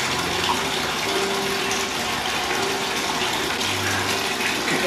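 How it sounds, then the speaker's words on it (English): Water runs and pours steadily over a French Bulldog Boston Terrier puppy during its first bath, a close, continuous gushing like a filling tub or running tap with no talk. "It's just water. It won't hurt you, I promise."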